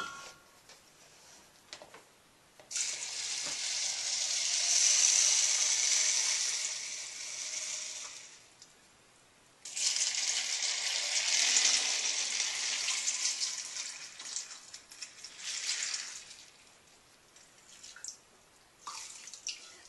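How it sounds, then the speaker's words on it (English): Tap water runs into two containers to soak buckwheat seeds, two long hissing fills separated by a pause, then a softer, shorter burst near the end, all fairly quiet and close. "And now I'm going to fill these 2 with water."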